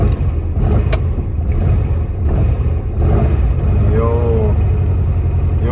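A carbureted Volkswagen Fusca (Beetle) sleeper engine drones steadily from inside the moving car, a loud, continuous rumble with a brief rising rev near the end.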